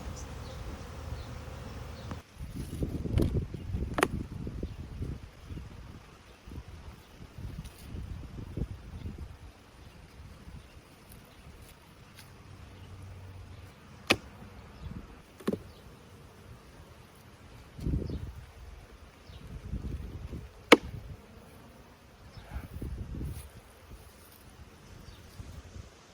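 Honey bees buzz around a defensive hive, their drones rising and fading as individual bees fly close past, faint to moderate, with occasional rustling and light wind.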